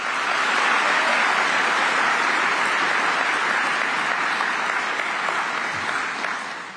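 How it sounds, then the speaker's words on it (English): Dense, steady applause from a large audience fills the whole stretch, loud and close, fading slightly near the end with no speech over it. "Why are you stupid bastards clapping?"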